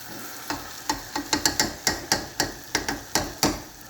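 Potatoes and onions frying in a pot, heard as a series of close clanking knocks of a utensil stirring against the pot over a soft sizzle, about a dozen irregular hits.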